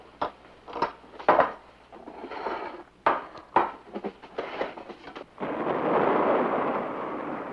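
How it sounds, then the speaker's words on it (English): Several sharp cracks and booms sound in an irregular sequence, then a low, sustained rumble rolls on and fills the final seconds. "You hear that? It was thunder."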